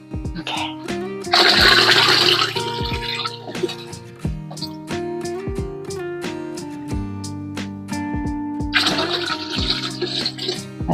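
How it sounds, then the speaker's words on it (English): Water pours into a big soup pot in two loud, splashing bursts separated by a quieter stretch, close by, with steady music playing underneath. "We're going to add water."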